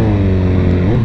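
BMW S1000RR sport motorcycle engine running steadily at close range, a loud continuous low harmonic drone with a throaty pulse that holds throughout.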